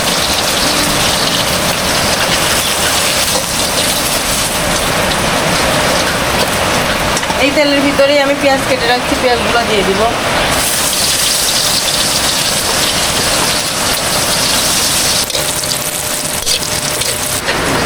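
Heavy rain pours steadily and loudly throughout while someone cooks outdoors in a rural courtyard, a dense continuous hiss of falling water with someone talking over it.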